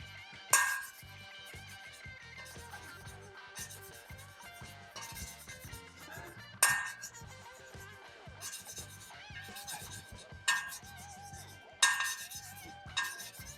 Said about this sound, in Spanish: yo sí noto que va cambiando el sonido conforme va puliendo